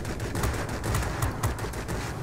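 Rear gunner of an Su-10 bomber in World of Warplanes pours out sustained machine-gun fire, a dense rapid chatter with sharper bursts spread over a couple of seconds, fairly close and steady.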